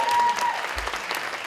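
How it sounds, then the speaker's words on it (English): Applause from an audience at a traditional Irish music competition final, following a young performer's slow air and jig; a dense, steady patter of many hands that holds at a constant level, with a faint tone fading early. "so we'll give her another round of applause."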